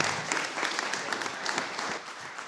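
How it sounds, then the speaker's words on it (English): Audience applause for presenters at a Shark Tank-style competition, a steady burst of many hands clapping at moderate distance, tapering slightly at the end. "Let's do a round of applause for everybody up here"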